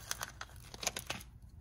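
Scissors snip through paper glitter headers, a quick series of close, faint crisp cuts and crinkles with brief pauses between.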